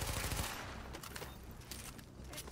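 Automatic gunfire in The Division video game, a dense burst of rapid shots at the start that fades into scattered, sharper distant reports over a noisy battle backdrop.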